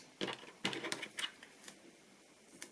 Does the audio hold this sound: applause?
no